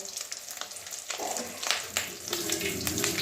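Fish roe frying slowly in oil over a low flame, a steady soft sizzle with small crackles and spits, fairly close, with a brief stir and little else over it.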